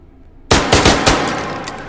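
Loud video game gunfire erupts abruptly from silence, a rapid burst of close shots in quick succession followed by a lingering ringing tail.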